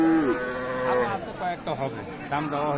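Cattle at a livestock market in Dinajpur, a couple of close, drawn-out moos with a harmonic, tonal character over a background of crowd chatter.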